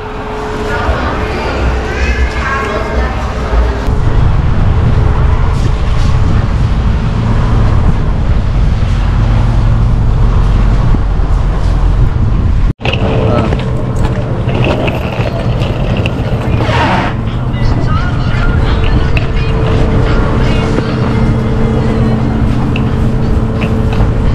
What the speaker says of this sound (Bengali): আর এই ফেরিটাই আমরা নিচ্ছি স্পিড বোটে, তো এটাতে টাইম লাগবে হচ্ছে 10 মিনিট আর ভাড়া হচ্ছে 200 বাট।